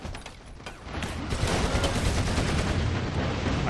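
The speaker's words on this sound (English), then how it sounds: "I think we just had a grenade fired at us as well." Battle sounds from the Warhammer 40K: Eternal Crusade video game, where a grenade is fired amid a dense barrage of rapid gunfire and rumbling blasts. The noise swells louder after the first second and keeps up a chaotic, continuous clatter with no speech.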